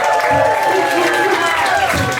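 A podcast live audience applauds and cheers continuously, a dense wash of clapping with voices mixed in.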